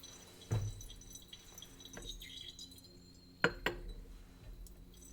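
Liquid drains from a lab burette into glassware during an acetic acid titration, heard as a few sharp drips and glassy clinks over quiet background, close and sparse.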